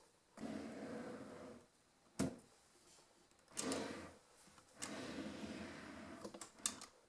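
A drawer holding colored pencils slides open with a soft rumbling scrape, followed by clacks and rattling of items inside, then more sliding sounds.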